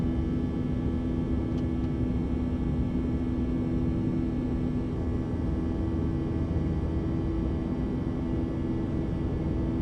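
An airliner cabin carries a steady, dense engine roar and airflow hum during the climb, continuous and unchanging with no voices.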